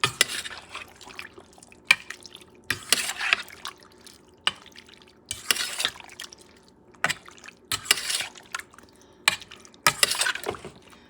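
Pork liver, kidney and heart stew ingredients being mixed by hand in a bowl, giving wet squelching and sloshing bursts that come and go in irregular pulses, close up with no talking.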